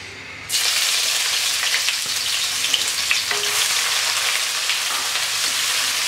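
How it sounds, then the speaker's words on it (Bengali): Chopped onions drop into hot oil in a pan, and the sound jumps at once to a loud, close, hissing sizzle that holds steady, with a few faint stirring taps. "এবার পেঁয়াজটা হালকা ভেজে নেব।"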